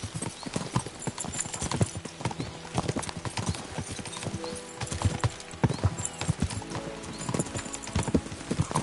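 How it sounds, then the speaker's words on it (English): Horse hooves gallop steadily throughout in Kingdom Come: Deliverance 2, a dense, continuous clip-clop rhythm close by, with occasional faint whinnies and low background sound. "We should spur the horses on."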